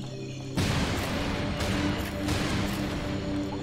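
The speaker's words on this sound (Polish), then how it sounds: "Piękne wybuchy." Explosions in the video game Serious Sam 2 roar as a dense, continuous rumbling blast with layered crackling bursts, loud and sustained throughout, with no talk over it.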